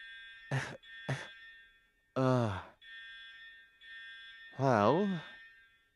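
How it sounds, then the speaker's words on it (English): A fire alarm beeps in a steady high electronic tone that cuts in and out, with loud vocal sighs and groans over it. "If the fire alarms weren't going off before, they certainly are now"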